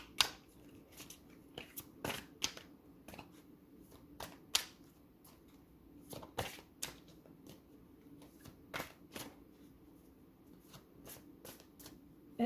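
A deck of tarot cards is shuffled close by in repeated crisp riffles and flicks, brief bursts separated by short pauses, quiet and alone.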